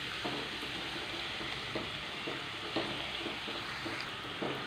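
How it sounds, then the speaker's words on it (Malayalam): Three medium onions, sliced lengthwise, fry in a pan of hot oil with a steady broad sizzle and scattered soft stirring knocks, moderately close and without talk. "ഇതിലേക്ക് ഞാൻ 3 മീഡിയം സൈസുള്ള സവാളയാണ് ഇത് നീളത്തിലൊന്ന് കട്ട് ചെയ്തെടുത്തിട്ടുണ്ട്."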